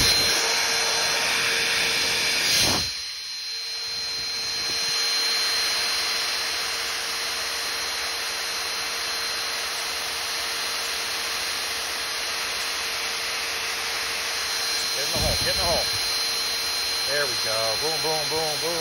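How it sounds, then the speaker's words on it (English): A Ryobi Lanternfly Eliminator 5700 vacuum trap runs with a steady loud whine and airy hiss, with brief rustling bumps near the start and toward the end as it sucks up clusters of spotted lanternflies on a tree. "Ryobi, Lanternfly Eliminator 5700, go get one."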